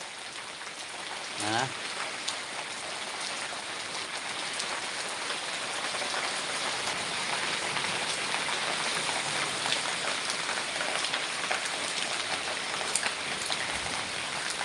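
Steady rain pours down throughout, a dense continuous patter on surfaces with no voices, constant and fairly close.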